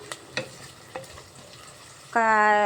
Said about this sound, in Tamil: நெத்திலியும் கொஞ்சம் கருப்புலையும் போட்டிருக்கேங்க. இவங்க ரெண்டு பேரும் தாளித்து வரட்டும்.